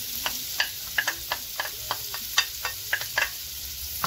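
Chopped vegetables and onion sautéing in a pan that was used to sear seafood, with repeated scraping stir strokes in a steady rhythm over a continuous close sizzle and no talking.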